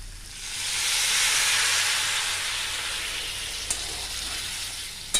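Water poured into a hot pan of cooking coconut and papaya sets off a loud, sustained sizzling hiss that swells quickly and then slowly fades.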